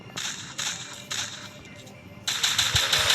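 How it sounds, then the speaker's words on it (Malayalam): Rapid bursts of gunfire in the Free Fire battle-royale video game, several sharp crackling volleys in quick succession, the last one longer and louder. "സേവന ഇവിടെ വെടിവെച്ച് തീർക്കുന്നുണ്ട് കേട്ടോ."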